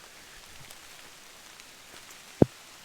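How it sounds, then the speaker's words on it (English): Light rain pattering softly and steadily on a mild day during a hike in Crow Wing State Park, Minnesota, forming a faint, even hiss with one sharp close knock near the end. "it is raining. Not very hard, but enough to be annoying"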